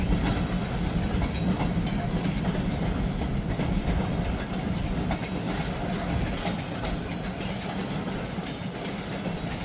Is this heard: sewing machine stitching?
no